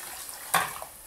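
Water is poured into a cup while making jelly for kunafa dessert cups, a single brief splashing gush near the microphone that fades quickly into quiet kitchen background.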